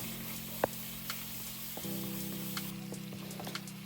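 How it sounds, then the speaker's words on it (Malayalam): Green chillies and onions stirred and frying in hot oil for a chicken curry, a steady close sizzle with a few sharp utensil clicks and a brief scrape partway through, no voices. "അതൊന്ന് നന്നായിട്ട് വയറ്റിയെടുത്ത് അതിൻ്റെ ഒരു പച്ചമുളക് മാറുന്നത് വരെ നന്നായിട്ട് ഇളക്കി കൊടുക്കാം"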